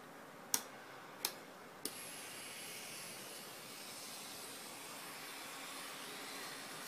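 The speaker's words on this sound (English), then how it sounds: "so you can see how the dust gets collected by the handpiece and goes all the way to the dust bag" Three sharp clicks are followed by the faint, steady whir of a professional pedicure drill with dust extraction working on gel and acrylic nails.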